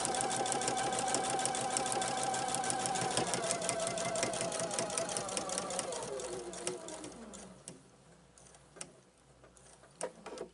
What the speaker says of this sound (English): All right, so I'm going to stitch to there.